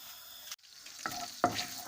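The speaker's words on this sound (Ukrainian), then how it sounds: "Нехай вона розігрівається і туди те масло викладаю" Butter melts and sizzles in a heated pan, a soft crackling fry broken by a couple of quick clinks or stirring taps.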